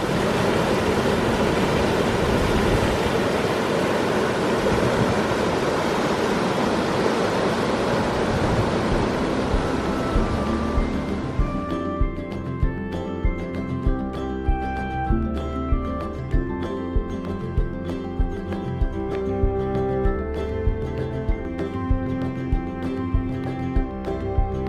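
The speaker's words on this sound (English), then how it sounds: "this may be the best view that we're going to get of the waterfalls." A waterfall heard from a viewpoint on a trail: a steady broadband roar of falling water fills the first half, then fades out as rhythmic music takes over.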